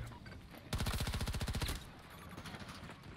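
Rapid automatic gunfire in the video game Battlefield 2042, one sustained burst of close, evenly spaced shots lasting about a second over low background game noise, with no talk.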